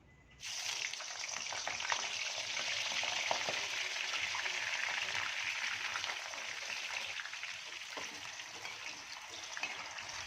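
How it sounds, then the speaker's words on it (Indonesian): Potato chips fry in already hot cooking oil, giving a steady, dense, loud sizzle that starts abruptly and continues unbroken with no talking. "untuk minyak gorengnya udah panas. Selanjutnya aku mau langsung goreng aja keripik kentangnya"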